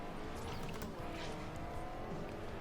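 A car drifting in the racing game Forza Horizon, with a steady engine roar and tire squeal holding loud and continuous throughout, and no voices present.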